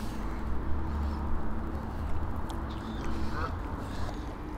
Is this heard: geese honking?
yes